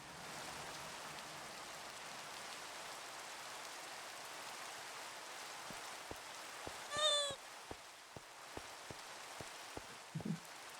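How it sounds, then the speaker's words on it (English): Steady rain hisses evenly through a video game scene, with a run of sharp clicks and a brief rising chirp in the final seconds. "I wanted to appreciate the rain."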